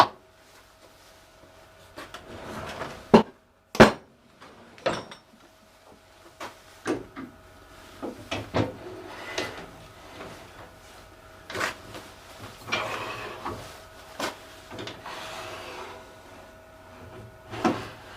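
Wooden acorn ornament tops being threaded on a lathe with a threading jig, giving a series of irregular clicks, knocks and scraping cuts, some sharp and loud, scattered through a quiet workshop.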